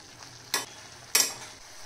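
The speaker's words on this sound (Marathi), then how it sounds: "आता आपण ह्याच्यामध्ये मिक्स करून घेणार आहोत।" A spoon stirs papad pieces through a spiced curd gravy, making two short, close scraping strokes about half a second apart over a quiet background.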